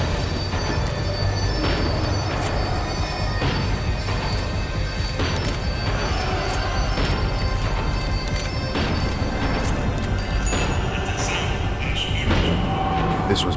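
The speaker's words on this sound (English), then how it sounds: "The tram was slowing down, and I'd only just gotten on board." A tram in the video game Max Payne 3 slows down, loud continuous rail rumble with squealing wheels and repeated metallic clanks and bangs as the cars roll and brake, no speech.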